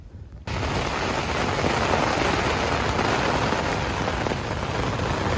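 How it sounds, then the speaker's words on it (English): Heavy rain pours down steadily on the Appalachian Trail after a brief quieter moment at the start, a dense, constant hiss close by. "Alright, the rain is back."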